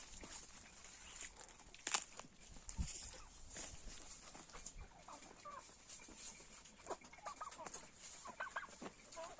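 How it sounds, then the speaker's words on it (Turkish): Chickens, one hen and two roosters, clucking outdoors in winter sunshine, with turkeys nearby. Scattered soft clucks and short calls come at varying distances over a quiet yard, with one sharper squawk near the start. "bir tane tavuk şu büyük olan tavuk. Diğer ikisi horoz."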